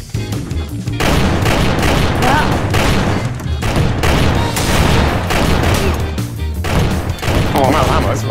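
Rapid bursts of gunfire from a weapon in Garry's Mod Trouble in Terrorist Town, loud and close, firing in quick repeated volleys with short pauses, while players talk over the shots.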